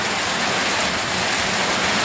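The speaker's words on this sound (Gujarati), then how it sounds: "આવો કંઈક વરસાદ પડે છે ભાઈ અમારે" Heavy unseasonal rain pours down steadily outdoors, a dense, continuous hiss of drops on surfaces with no pauses, loud and close throughout.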